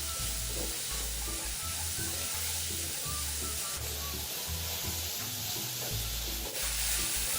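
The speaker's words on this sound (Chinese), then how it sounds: "油热后，倒入备用的洋葱碎，中火稍微拌炒。" Chopped onion and minced garlic stir-fry in hot oil over medium heat, a steady close sizzle broken by soft scraping and tossing of the spatula, without speech.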